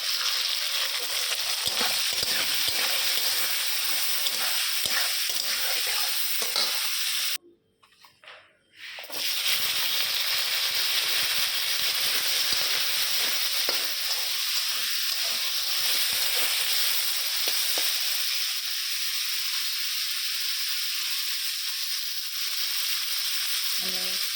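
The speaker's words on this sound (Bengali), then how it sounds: "গাজর আর ক্যাপসিকাম ভাজা করেছি, ভাজা করতেছি।" Carrot and capsicum fry in a pan with a constant, even sizzling hiss and occasional stirring scrapes, interrupted once by a brief near-silent gap before the frying resumes at the same level.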